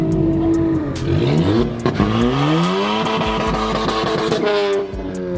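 A nearby stage 3 Ford Fiesta ST revs hard through several gear changes on a cold night street race, pitch climbing and dropping repeatedly, with a harsh, buzzy exhaust note.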